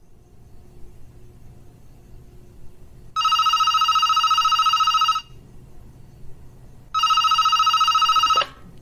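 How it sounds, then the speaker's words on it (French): A telephone rings in two long electronic bursts separated by a pause, loud and close over a low background rumble, with no voices. "j'ai des coups de fil à passer"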